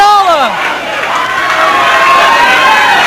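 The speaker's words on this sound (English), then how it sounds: "This crowd is going nuts" A wrestling arena crowd at an NWA St. Louis tag-team match cheers loudly in a dense, sustained roar, with an announcer's voice rising over the noise at the start.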